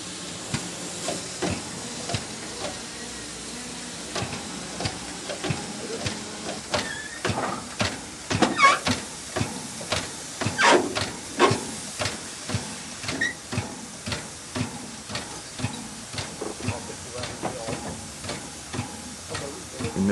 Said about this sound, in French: Une machine à vapeur, c'est un monstre vivant